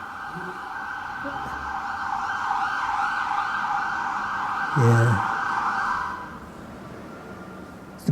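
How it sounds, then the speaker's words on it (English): An ambulance siren sounds loud and steady, holding for several seconds before cutting off abruptly, with low traffic rumble underneath and a short spoken word near the end. "The poor ambulance is trying to help the broken bodies."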